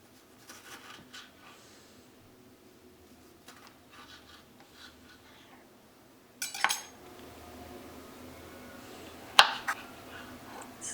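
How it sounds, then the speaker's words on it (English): A knife cutting tomatoes into bite-sized pieces makes quiet scraping taps against a board, then two sharp, clear knocks stand out near the end. "So next I'm just going to keep cutting the tomatoes into bite-sized pieces."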